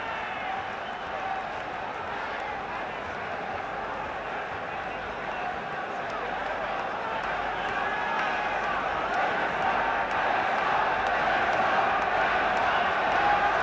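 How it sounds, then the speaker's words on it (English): A boxing arena crowd roars continuously in the final round, a dense, sustained wash of cheering and stamping that swells slightly louder in the second half and carries on without a break. "Listen to this crowd now, stamping their feet and cheering these two on into the final 3 minutes."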